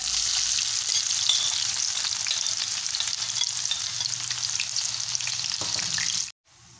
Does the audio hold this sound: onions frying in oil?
yes